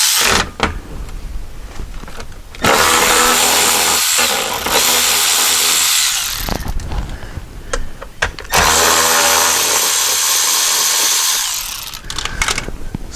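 Power tool spins out the 10mm-head Torx differential cover bolts with captured washers on a VW Touareg, two long loud whirring bursts separated by short pauses and scattered clinks.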